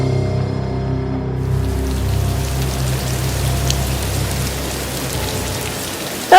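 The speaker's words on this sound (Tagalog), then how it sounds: "Kumulimlim at sumabay ang malakas na buhos ng ulan." Heavy rain pours steadily onto surfaces, a loud, dense, continuous hiss that stays even throughout, with low rumble beneath it.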